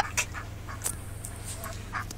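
Ducks squabble close by, giving several short, scattered quacks and squawks over a low steady background hum, with no talking.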